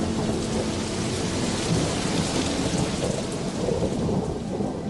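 Heavy storm rain pours down in a dense, loud, steady roar with thunder rumbling underneath, no voices.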